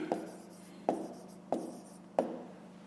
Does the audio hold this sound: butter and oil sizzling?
no